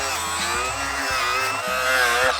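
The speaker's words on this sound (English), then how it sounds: "If we just want to see what's under here, we could just cut across there. You can't angle grind carpet." An angle grinder cuts into the carpet of a Porsche 911 during a rebuild, giving a steady, loud, continuous whine with small shifts in pitch as the disc bites, heard close with no talking.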